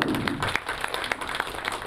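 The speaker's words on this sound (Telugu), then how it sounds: "త్రిమిత్రు అనిల్, వినోద్ అండ్ మహేష్, ఒక్కసారి చప్పట్లు కొట్టండి సార్ అందరికి." An audience at a film first-look launch event claps together, a dense, steady wash of applause close by that holds through the short moment with a faint voice mixed in.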